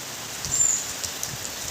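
Steady hiss of rain falling, even and continuous, with a few faint drip-like ticks scattered through it.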